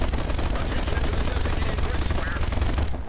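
Sustained machine-gun fire in a video game rattles loud and dense for about three seconds, an unbroken rapid burst with a voice faintly present beneath it.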